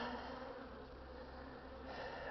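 A dense, continuous buzzing of many honeybees flying around a hive, steady and close, with no voices.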